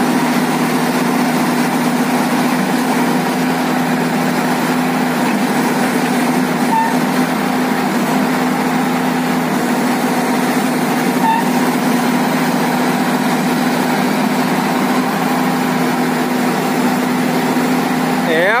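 A diesel engine on an FH 200 crawler tractor drones steadily and loudly as it strains to climb onto a high bi-truck trailer ramp, a continuous unbroken roar.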